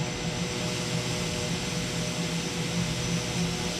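The Carenado Do228 in a flight simulator drones with a steady engine roar while its landing gear retracts after takeoff. A constant broadband hum with a faint tonal whine continues evenly, and no voices are heard.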